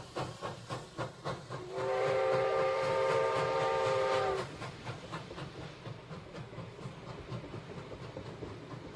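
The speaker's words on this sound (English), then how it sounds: "the train begins to leave the station and take them out of London" A train pulls away from a station with rhythmic wheel clatter throughout and a long, steady steam-style whistle blowing for about two and a half seconds midway, heard as a moderate sound effect without talk.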